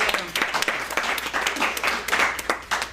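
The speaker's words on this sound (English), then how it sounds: "Please give her a big round of applause" Enthusiastic clapping for the evening's sponsor at a small San Francisco meeting, with fairly close, distinct hand claps in an uneven, lively rhythm throughout.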